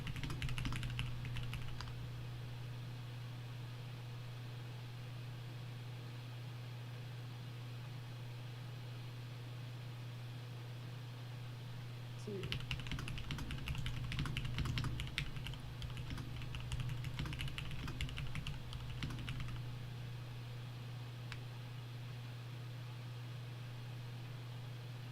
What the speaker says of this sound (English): I was literally typing it